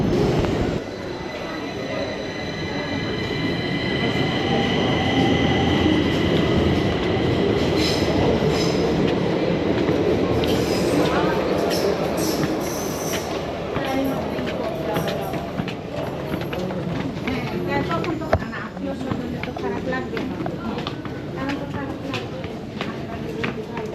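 Stockholm metro train at Slussen station platform, a loud rolling rumble that builds and then fades, with wheel squeal and rail clatter, and people talking over it.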